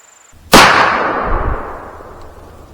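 A single loud .357 Magnum gunshot cracks sharply and then rolls off in a long, fading echo outdoors, with no talking.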